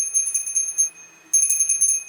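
A prayer bell rings continuously in clear, bright repeated strikes with sustained high overtones, briefly pausing before resuming, moderately loud and alone in a quiet setting.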